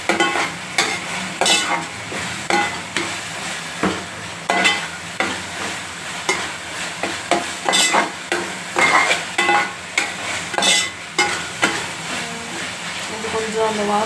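Mutton gravy with ginger garlic paste sizzles in a pan while a spoon stirs it in repeated, rhythmic scraping strokes, with a voice talking over the cooking.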